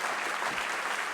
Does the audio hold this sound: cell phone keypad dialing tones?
no